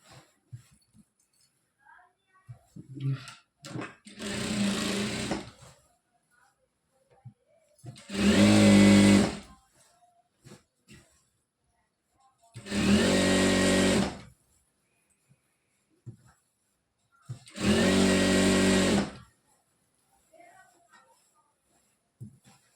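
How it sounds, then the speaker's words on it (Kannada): An electric sewing machine stitches the side seam of a churidar pant in about four loud, steady whirring runs of a second or two each, separated by quiet pauses with a few shorter bursts and faint handling noises. "ಈ ರೀತಿ ಸೈಡು ಸ್ಟಿಚ್ ಹಾಕೊಳ್ತಾ ಬನ್ನಿ"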